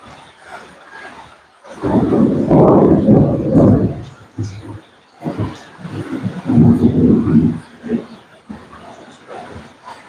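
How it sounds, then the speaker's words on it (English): Thunder from a passing storm over an Australian backyard rolls in two long, heavy low rumbles, the first loud and sustained and the second broken into grumbling surges before fading. "the last part of the storm might have the most thunder and lightning in it"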